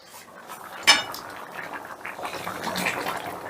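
A lid is lifted off a pot of rohu fish curry with one bright metallic clank, followed by a low, soft bubbling simmer.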